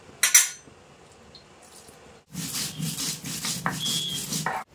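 Whole coriander seeds and dried red chillies crushed on a grinding stone, a steady, close rasping scrape that starts after a brief clink and quiet stretch, then continues in rhythmic strokes.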